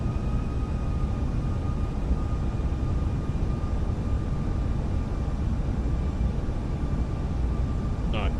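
A steady, droning airplane engine from Microsoft Flight Simulator holds a constant level throughout, with a faint tonal whine over broadband noise.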